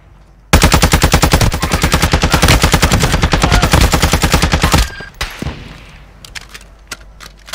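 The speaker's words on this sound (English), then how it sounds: "I'm getting sniped from the hilltop." Loud rapid automatic gunfire rattles in a video game shooter for about four seconds, then breaks into a few scattered shots and thuds.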